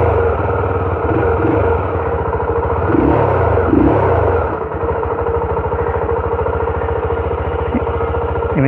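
Daytona Zontes R250 motorcycle engine running loud and close, revving up and down with a rough rattling note over several seconds.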